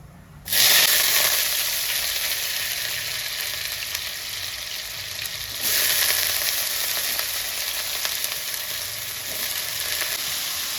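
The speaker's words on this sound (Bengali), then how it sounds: "আমি আলুটা ভেজে নিচ্ছি" Potatoes fry in hot mustard oil with cumin seeds in a wok over a high flame, a loud, steady sizzle that starts abruptly and surges again partway through.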